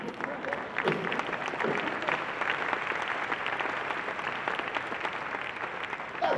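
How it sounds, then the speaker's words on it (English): A church congregation clapping during a sermon in Ghana, a dense, even stretch of many hands applauding continuously from start to finish. "I don't like it when people attempt to clap and don't clap."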